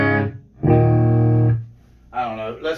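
Electric guitar played through a Crate GT3500H solid-state head with the reverb at zero, a dry, bright strummed chord ringing about a second, then a shorter pair of clean chords.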